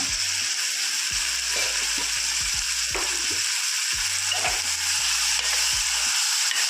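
Vegetables frying in oil in a pan, a steady bright sizzle throughout with intermittent scraping and clacking of stirring, close and loud with no talk.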